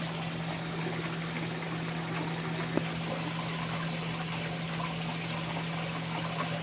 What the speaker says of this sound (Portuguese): Que a água tá caindo bonita, ó.